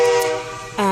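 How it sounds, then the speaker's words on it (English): Train passing close by a house, a loud, brief horn-like tone that dips and then returns strongly, heard through open windows. "that's the train. It goes by my house pretty loud"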